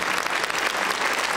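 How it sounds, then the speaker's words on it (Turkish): An audience at a book-reading award ceremony applauds steadily, a thin, even wash of clapping heard from a moderate distance with no talk over it. "alkışlar bu kadar olmamalı, daha gür olmalı"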